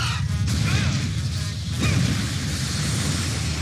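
Cartoon motorcycle crash in an animated series: a sharp smash with a whooshing sweep at the start, a second impact burst near the two-second mark, then rattling debris fading under a noisy backdrop.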